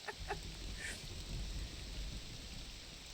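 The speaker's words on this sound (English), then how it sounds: "I don't think I've ever seen it rain in Morrowind." Rain falling in Morrowind, a steady low hiss of rainfall with a faint rumble of thunder underneath, constant throughout with a few small chirps at the start.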